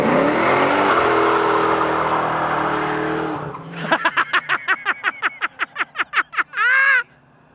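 A Ford Mustang does a burnout, first a loud, sustained roar of engine and spinning tires, then a rapid run of rhythmic revving pulses that ends in one longer blast.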